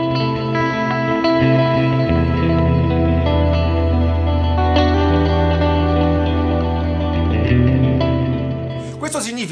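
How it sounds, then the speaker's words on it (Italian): Electric guitar played through a PULZE MINI amp modeller with distortion, sustained chords ringing with echo and thick overdriven harmonics, loud and continuous, ending in a sharp pick scrape. "quando invece attacchi la corda con più forza ottieni quella distorsione simile ad un amplificatore vero"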